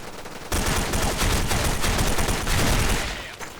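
K2 rifle firing in a video game on the Russian Factory map, a continuous loud burst of rapid automatic fire lasting about three seconds after a brief quiet start, with no talking.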